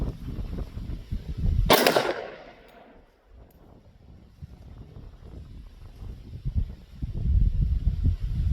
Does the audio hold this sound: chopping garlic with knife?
no